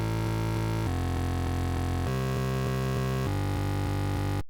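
A heavy synthesized frenchcore bassline made in Serum thumps in a steady, driving pattern, shifting pitch every bar, loud and distorted with no voices.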